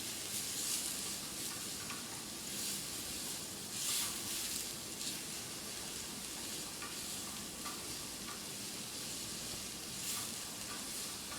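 Onions frying in a pan and browning at the edges, a steady close sizzle with occasional stirring scrapes, heard alone with no talk.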